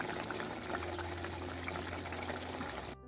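Water poured into frying fish masala in a pan, a steady, close pouring and trickling stream that runs without a break for about three seconds and then stops abruptly.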